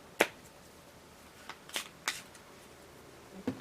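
A tarot deck is shuffled and handled in a few short, crisp card riffles and snaps, close and quiet, with no speech.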